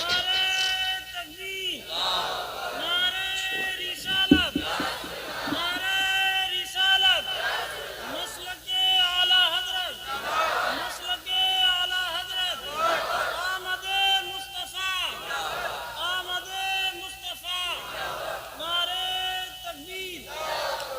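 A large crowd at a religious gathering answers a preacher's call with loud, rhythmic chanted slogans, voices rising together in repeated bursts with a steady roar of many people.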